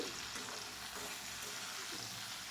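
Chopped tomatoes and potatoes stir-fry in a pan with a dense, even hiss of sizzling oil, close and unbroken, with faint stirring movement beneath and no talk.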